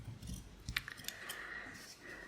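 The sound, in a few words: scissors cutting a piece of paper for a cover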